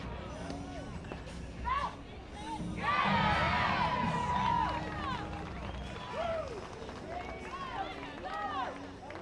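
Crowd cheering and shouting at an APTA national championship women's semi-final padel match, a loud burst of cheers swelling mid-clip over steady crowd noise, with a commentator's voice and sneaker squeaks throughout.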